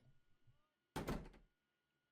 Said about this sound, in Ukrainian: Я відкрив двері.